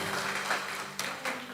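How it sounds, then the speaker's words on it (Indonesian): Congregation applause inside a church, a faint steady wash of clapping with a couple of sharper bursts near the end. "tepuk tangan bagi Tuhan Yesus"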